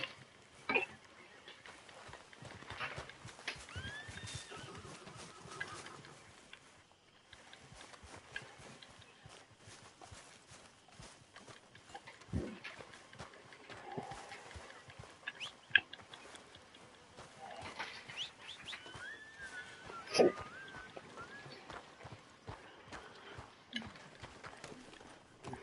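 Horse in the Red Dead Redemption 2 video game, faint clip-clopping hooves and soft snorting sounds with scattered thuds throughout, quiet and fairly distant, with brief talking mixed in.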